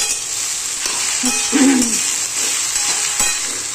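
Okra, about 1.5 kilos of village-style bhindi, fries in a pan with a continuous crackling sizzle, broken midway by a few scraping stirs and a brief tonal squeak, with no voices.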